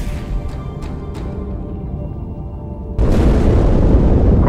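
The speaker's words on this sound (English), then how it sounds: "That explosion came from inside the Athens, same as the Malta." An explosion in the Halo 2 video game, a pre-release mod, gives a rumbling boom that swells into a loud, broad blast after a few sharp crackling hits.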